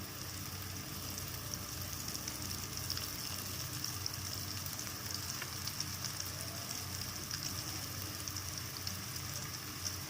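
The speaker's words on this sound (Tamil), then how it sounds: "நல்லா பொரிஞ்சு நிறம் மாதிரி வரணும் பாவக்காய்" Sliced bitter gourd chips fry in hot oil, giving a steady, fine-grained sizzle that stays even and fairly quiet throughout, with no voices.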